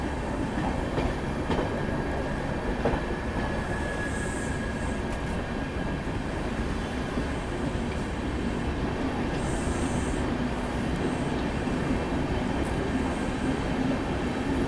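The 14218 Unchahar Express running through fog, a continuous loud rumble of wheels on track with rhythmic clickety-clack and occasional metallic squeal as the train gathers speed.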